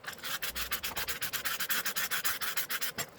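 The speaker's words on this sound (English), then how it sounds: "I'm just lightly sanding inside" Sandpaper rubs lightly inside an aluminum can in quick, regular back-and-forth strokes, a close rasping scratch repeating about eight times a second, with no talking.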